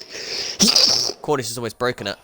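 A sharp sneeze from someone with hay fever cuts in over a racing game commentary, followed closely by people talking.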